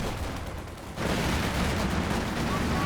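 Steady, loud gunfire rattles through a Company of Heroes 2 battle, a machine gun firing near a trench, continuous across the short stretch with a sharp rise in intensity after the first second.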